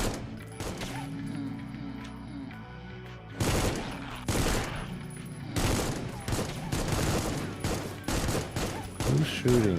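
Rapid bursts of assault rifle gunfire in the online survival shooter Once Human, loud and repeated in clustered volleys with mechanical clicks between, while someone talks over the action.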